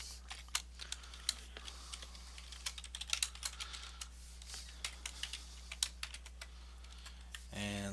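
Rapid irregular typing on a computer keyboard, close and fairly quiet, with bursts of clicking keystrokes and brief pauses over a faint steady electrical hum.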